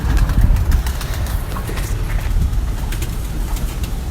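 Low, steady cooing of pigeons close by, continuous over a noisy background with occasional faint chirps.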